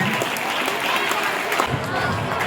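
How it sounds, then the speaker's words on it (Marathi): A school audience at Sant Goroba School, Viman Nagar, applauds the guests with steady, loud clapping that fills the whole stretch, and a voice speaks faintly beneath it. "जोरदार एकदा टाळ्या वाजवायचा"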